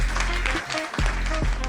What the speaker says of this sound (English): big round of applause, good job